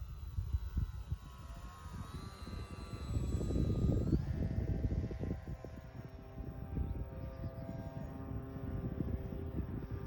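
Motorbike passing outdoors, its engine drone swelling to a peak and fading like a low-flying plane, over a continuous hum and a high whine from a nearby model T-28 aircraft.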